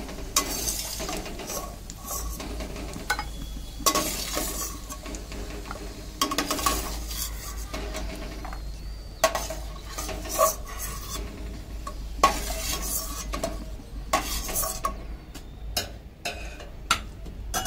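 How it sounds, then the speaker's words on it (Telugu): Rava being fried and stirred in ghee for sheera (kesari bath), with scraping, rasping strokes of a spoon against the pan repeating in bursts over a steady low hiss, close and moderately loud with no talk. "చూడండి, మంచిగా ఫ్రై చేసుకోవాలి"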